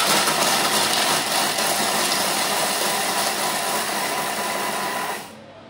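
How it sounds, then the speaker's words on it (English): Thermomix processing a full packet of Biscoff biscuits at speed 5 for five seconds: a loud, steady whirring grind with a rattling edge that runs for about five seconds and then winds down, with no talk. "It says to pop the lid on. And we're going to, for 5 seconds, we're going to process them at speed 5."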